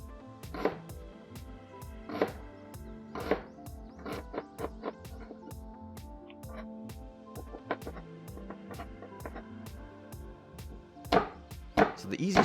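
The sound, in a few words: knife chopping onion on cutting board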